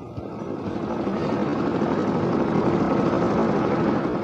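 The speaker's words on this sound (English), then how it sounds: "The helicopter took off and climbed slowly into the sky." A helicopter's engine and rotors build into a steady, loud droning roar, growing slightly in intensity as it lifts off, with no voices.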